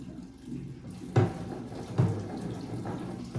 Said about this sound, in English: I'm gonna put just enough water to cover them.